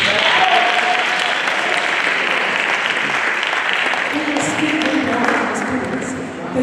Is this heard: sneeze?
no